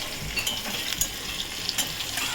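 Onions fry in a pan toward golden brown, a steady close sizzle with occasional scraping stirs and light utensil clicks, no voices over it.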